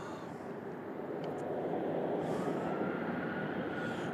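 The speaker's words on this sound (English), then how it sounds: "That little Delta will be going to Boston in the Embraer" A Delta Embraer 175 jet airliner at Louisville airport produces a steady, broad roar that swells slightly and holds at a distance, with no voices.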